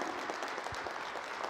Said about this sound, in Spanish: Dale un aplauso, que llegue hasta el tercer cielo